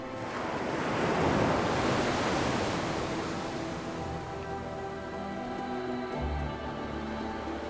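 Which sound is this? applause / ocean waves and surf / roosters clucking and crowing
ocean waves and surf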